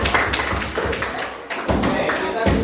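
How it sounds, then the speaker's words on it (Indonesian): Class applauding after student presentations, a dense run of claps in a classroom lasting a few seconds with brief dips, steady and fairly close. "Tepuk tangan untuk kerja kita semua."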